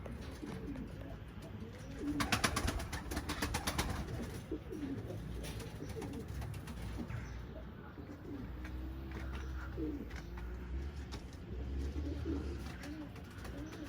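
Pigeons coo repeatedly in a low, soft rhythm amid outdoor ambience, with some fluttering bursts and rustling noise.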